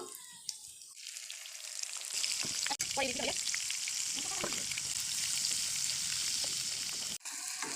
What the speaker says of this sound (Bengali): এখন দিয়ে দেবো 2 চামচ আদা বাটা ও 2 চামচ পেঁয়াজ বাটা, দিয়ে ভালো করে কষিয়ে নেব।